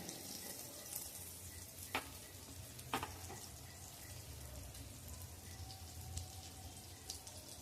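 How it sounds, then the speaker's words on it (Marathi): Eggplant slices coated in flour fry in oil in a pan, giving a steady close sizzle with a few sharp pops and crackles scattered over it. "पॅन हलवून घ्यायचं सगळ्या बाजूने तेल फिरवायचं म्हणजे सगळ्या वांग्याला तो तेल लागेल"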